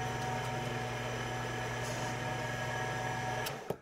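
A mini-lathe cuts titanium with a steady mechanical whine and tonal hum, running continuously at close range before a brief clunk at the end.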